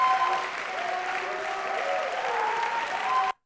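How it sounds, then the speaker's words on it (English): Recorded applause plays back in Logic Pro, a steady dense wash of many hands clapping at an even level from start to finish before cutting off abruptly. "Let's hear this applause."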